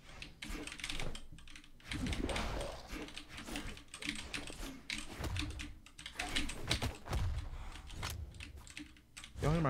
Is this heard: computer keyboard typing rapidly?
yes